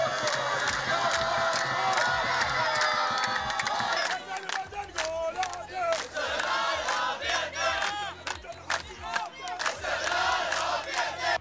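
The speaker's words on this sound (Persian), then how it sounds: "ما اینجا تشویق میکنیم خوزستانی ها رو" Football fans in a stadium in Ahvaz cheering and chanting in a dense, loud roar of massed voices, shifting after a few seconds into rhythmic rising and falling chants, heard close within the crowd.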